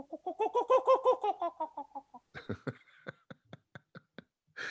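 A human voice imitates the call of a kookaburra, a native Australian bird: a rising run of hooting notes, then a string of sharp, staccato laughing bursts that spread further apart as they fade.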